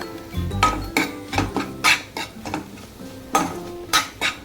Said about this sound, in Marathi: धणे जिरे पावडर पूर्ण घालून घ्यायची, चांगली परतायची